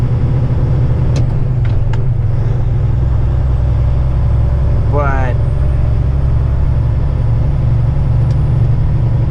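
A truck engine running steadily while hauling a 77,000 lb CAT 336 excavator on a trailer, loud low rumble throughout, with a brief whistling squeal midway and someone talking over it.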